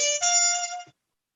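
A trumpet with a bop mute fitted with a synthetic cork inlay plays one short, bright, buzzy sustained note that stops abruptly, alone and close.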